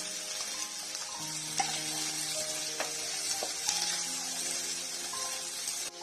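Green capsicum with finely chopped ginger and garlic sizzling and frying in a pan for a honey chilli potato starter, a steady close hiss with light stirring clinks throughout, no talking.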